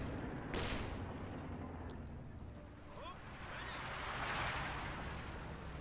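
ZIS field gun and SU-76 self-propelled gun firing in a WWII real-time strategy game: a sharp crack early on, then rumbling distant booms and battle ambience under a commentator's steady talk.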